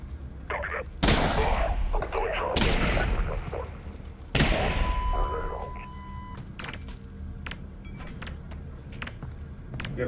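A grenade goes off in the VR game Half-Life: Alyx, blasting a wall with a loud explosion, followed by several more sharp bangs and gunfire-like bursts in a busy, noisy in-game soundscape.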